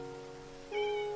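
A house cat meows indoors at close range, a short rising cry over a faint steady background hum.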